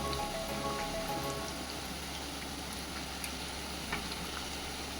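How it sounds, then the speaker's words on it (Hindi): Colocasia leaf rolls (patra) fry in hot oil, a steady dense sizzle that holds constant throughout, close and even, with no talking. "तो मैं इनको अच्छे से तल रही हूँ।"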